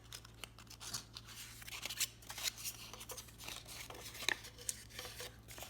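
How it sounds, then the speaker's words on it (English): Scissors make a series of quiet, close snips while mitering the corners of a paper box, with crisp cuts at uneven intervals over a low steady background hum. No one speaks. "Then you're going to miter the 1/2 inside"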